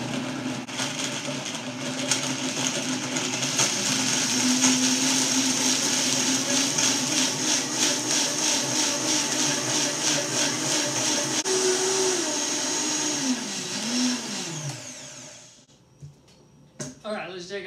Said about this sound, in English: And now we blend to get the silken oats part.